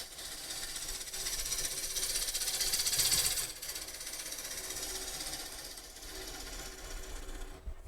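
A lathe scraper smooths the inside curve of a spinning wooden bowl, giving a steady close rasping hiss that swells and eases as the tool is drawn back and forth, with no talk.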